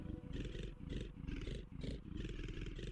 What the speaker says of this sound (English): the pig is a Venusaur! Oh, it still makes a pig noise, but it kind of fits.